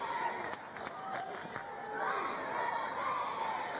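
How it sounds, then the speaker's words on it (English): A fairly quiet crowd murmurs and calls out in a high school gym during an early stretch of a Connellsville at Uniontown boys' basketball game, a steady wash of chatter with a few louder shouts. "Pretty subdued crowd early going here."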